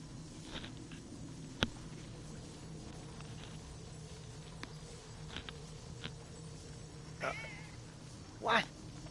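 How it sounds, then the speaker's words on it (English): Sassy, a chubby calico house cat, gives a couple of meows, a faint one mid-scene and a louder, drawn-out one near the end, amid quiet room tone and small clicks and taps. "This cat is one of the most vocalist cats I've ever had. She meows at everything."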